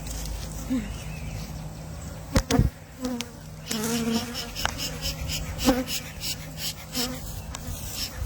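Honey bees buzzing around a hive: a continuous close drone with individual bees passing near and away, louder swells coming and going, with brief handling noises.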